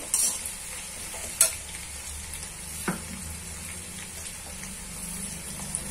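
Coarsely ground coriander and cumin seeds sizzle in hot oil for a crisp chivada, a steady close crackle under slow stirring, with a few sharp clinks of a spoon against the pan.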